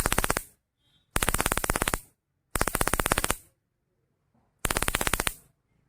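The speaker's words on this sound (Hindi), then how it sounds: "वॉइस के बाद आपको जो पटाखा का साउंड है उसको यहाँ पर एक्टिवेट करना है।" Firecracker sound effect from a homemade robotic Diwali bomb toy: four rapid rattling bursts of crackling pops, each lasting under a second, separated by short silences.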